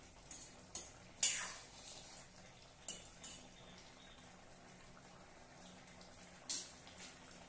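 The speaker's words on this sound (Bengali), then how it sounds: "জাস্ট একটু চামচ দিয়ে একটু ডলে দিচ্ছি।" A spoon mixes okra with mustard oil in a pan, giving a few soft scattered scrapes and clinks against quiet background, with no talking.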